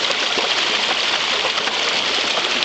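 A micro hydro water wheel turning a generator through heavy gear reduction, heard as a steady broadband rush of flowing water, loud and continuous with no distinct mechanical beats standing out and no voices.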